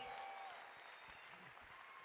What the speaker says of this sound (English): Give me a round of applause to show you how you feel today